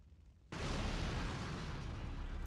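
An explosion in the video game Resident Evil 3: Nemesis bursts in suddenly after a quiet moment, then rolls on as a loud, dense, sustained roar with no one speaking.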